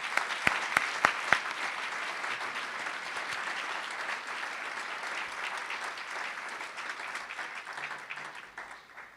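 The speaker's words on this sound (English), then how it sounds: "Let's give Tom a round of applause." A crowd at the Orange City Tulip Festival parade applauds the parade marshal, opening with a few sharp, loud claps before settling into steady, dense clapping that fades slightly toward the end.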